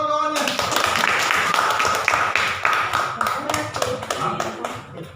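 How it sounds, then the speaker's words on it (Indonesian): Students in a classroom clap for their classmates in a lively burst of many hands that fades toward the end, with a voice speaking over it. "Kasih tepuk tangan untuk kawan-kawannya"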